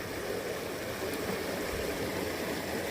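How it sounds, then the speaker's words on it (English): Clean water in a small stream flows with a steady, close rushing hiss that never lets up and has no voices over it. "Listen to the soothing of the sound of the water."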